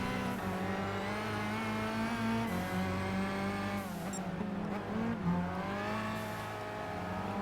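Race cars in Gran Turismo 5 roar close by on a Le Mans test day run, engines revving and climbing through gears out of corners toward the Mulsanne straight, with a constant loud whine and pitch sweeps as they shift.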